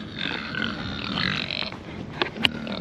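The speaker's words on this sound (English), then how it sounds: "feed the pigs" Pigs grunting at feeding time on a farm, a few close, rough low grunts and snorts over a quiet background, with a couple of sharper snorts near the end.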